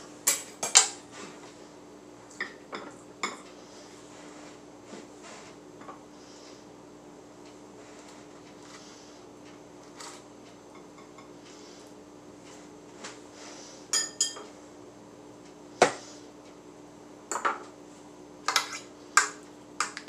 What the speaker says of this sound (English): we're going to put our pineapple in the pan.